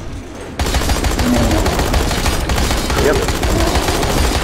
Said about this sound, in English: does that mean I can finally use the gun?